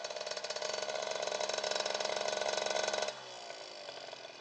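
A Suzuki RMX 50 motorcycle engine runs in second gear with a fast buzzing, rattling drone that holds steady and loud, then drops abruptly to a quieter, lower idle-like hum near the end.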